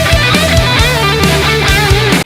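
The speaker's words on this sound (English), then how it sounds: "today we're gonna create a modern rock guitar tone using Bias FX2 Mobile" Modern rock crunch electric guitar through Bias FX 2 Mobile amp simulation on an iPad, playing dense overdriven riffs with sustained chords and moving bass notes, loud, close and continuous with no talk.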